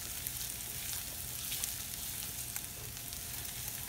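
Bacon and onions frying in a pan over medium heat, a constant fine crackling sizzle with occasional louder pops, heard close and alone.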